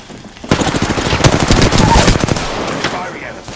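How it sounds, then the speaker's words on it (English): Rapid automatic gunfire in the Apex Legends video game, a loud continuous burst of close shots lasting a few seconds, with short game voice callouts mixed in. "Firing at us."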